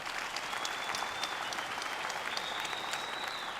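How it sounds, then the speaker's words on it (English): A graduation ceremony audience for the College of Health Science and the College of Agriculture, Engineering & Science gives a round of applause. The clapping is steady, dense and sustained throughout, with no talking over it. "I think that deserves a round of applause"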